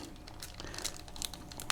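Thin plastic bag crinkles while a Canon DC coupler battery adapter kit is packed into it, with brisk, irregular rustles and a few sharper crackles, close and fairly quiet, no talking.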